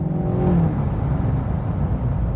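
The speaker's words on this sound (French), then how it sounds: "Le moteur BMW V8 367 chevaux est à la fois extrêmement souple et très réactif" A Wiesmann GT sports car's 367-horsepower BMW V8 engine revs briefly up and settles into a steady whirring hum, moderately loud with no voices.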